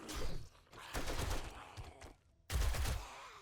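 Gunfire in 7 Days to Die, close bursts of rapid shots in three loud clusters separated by brief pauses, the last burst starting abruptly after a near-silent gap.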